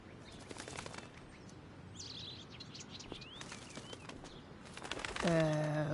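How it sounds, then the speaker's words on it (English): A bird in Life is Strange: Before the Storm flaps its wings in fluttering bursts and gives scattered high chirps, quiet overall, with a voice briefly heard near the end. "Bye, elitist Blackwell bird."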